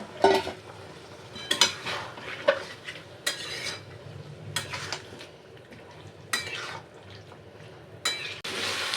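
A spoon scrapes and stirs chicken masala in a pot with a splash of water, making repeated clinks and scrapes over a low sizzle of frying spices.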